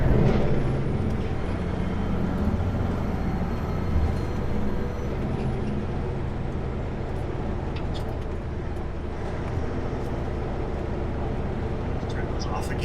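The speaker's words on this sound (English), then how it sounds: "I guess I could use engine brakes on this." Truck engine braking on a curvy, snowy 7% mountain pass descent, a low, continuous rumbling drone heard from inside the cab with a steady hiss and brief clicks over it, while the driver talks.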